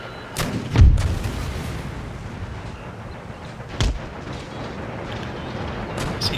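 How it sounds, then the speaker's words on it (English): Artillery in the strategy game Empire Total War fires two deep, heavy booms several seconds apart over a constant low rumble of battle noise. "Keep the artillery fire going for a little bit longer."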